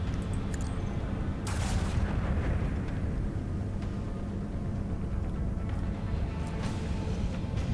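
Booming, rumbling gunfire from the turn-based Warhammer 40K Rogue Trader game, a dense low roar of blasts with a few sharper cracks, loud and continuous throughout with no talk.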